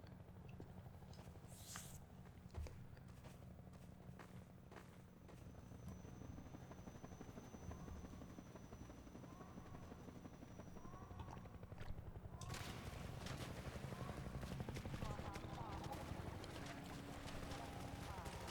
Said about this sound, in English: We gotta run from these helicopters.